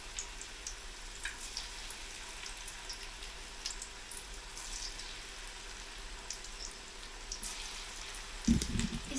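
Alu vadi, rolled colocasia leaves, frying in plenty of hot oil in a kadhai over a traditional wood-fired stove, giving a steady soft crackling sizzle with no talk; a brief louder knock or splash comes near the end.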